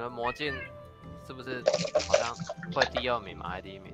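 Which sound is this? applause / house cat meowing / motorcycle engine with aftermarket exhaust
house cat meowing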